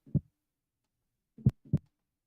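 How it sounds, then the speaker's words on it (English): A single heartbeat sound effect for the intro of the indie game Skeleseller: one soft low thump, a pause, then a close lub-dub pair of dull beats, clean and isolated. "it's easier to just pull a sound file out that is exactly just a single heartbeat"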